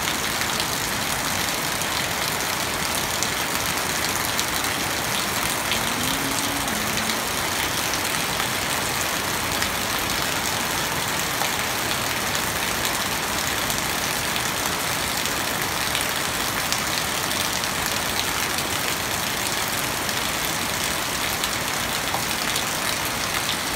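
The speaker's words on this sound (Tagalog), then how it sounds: "Malakas na yung ulan guys." Steady, dense heavy rain from Typhoon Opong roars continuously, a broad wash of noise with a low rumble underneath, unbroken for the whole stretch.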